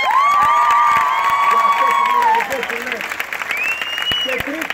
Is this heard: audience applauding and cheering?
yes